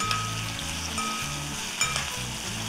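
Onion hits hot oil with mustard seeds, cumin and curry leaves for gavar bhaji, making a continuous close sizzle with faint crackles and occasional light stirring clicks.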